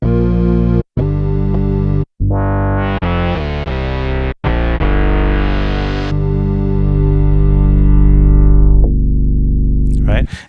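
Bass guitar through an MXR Bass Synth pedal, sustained synth-like notes that brighten and swell as the expression pedal sweeps from heel to toe, loud and close with short gaps between notes, then a brief voice at the end.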